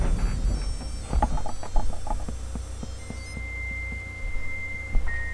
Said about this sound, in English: Yes, that would be my crazy alarm that I can't figure out how to turn off.